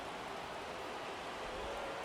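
Light rain falls in the baseball video game MLB The Show 23, a soft, even, continuous hiss of drizzle at low level with no distinct drops or voices.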